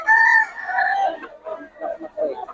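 A 10- to 11-month-old stag rooster of Black Macray bloodline, at a gamefowl market, gives one full crow, loud and close, its drawn-out opening note trailing into a rougher tail with no other voices over it.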